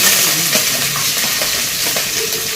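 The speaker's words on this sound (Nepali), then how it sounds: "अनि यहाँ पनि मासु फ्राई गर्दैछ" Meat frying in a home kitchen pan, a steady loud sizzle and crackle with occasional stirring scrapes, close up and continuous throughout.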